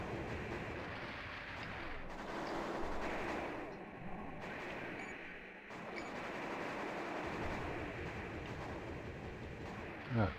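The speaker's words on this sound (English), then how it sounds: "This is that chain gun I was talking about." A video game chain gun firing in dense, continuous bursts, a heavy rattling roar that runs almost without pause, briefly dipping before picking up again.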